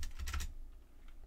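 A short burst of keystrokes on a computer keyboard while writing HTML and SCSS code, a few quick clustered taps close to the microphone, then a quiet pause with faint further clicks.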